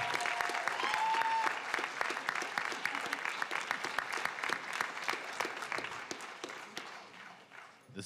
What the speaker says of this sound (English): Big round of applause for Mohammed.